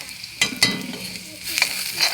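Maggi noodles with fried onions sizzle in oil in a kadai as a spatula stirs and scrapes in several close strokes, the frying steady underneath.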